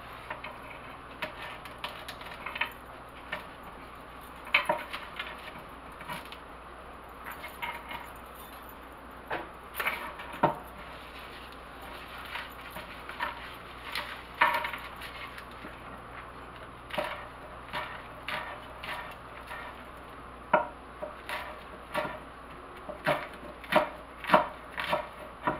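A knife chops and cuts kale on a wooden board, with irregular sharp taps and thunks that cluster into quicker bursts toward the end, close and fairly quiet.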